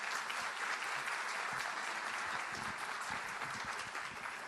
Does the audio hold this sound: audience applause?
yes